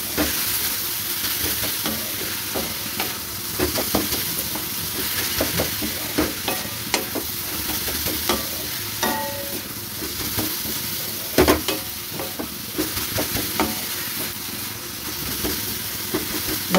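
Prawns stirred and fried in a pan for a radish ghonto, a constant near sizzle and steamy hiss with frequent scraping and tapping from the spatula, no voices.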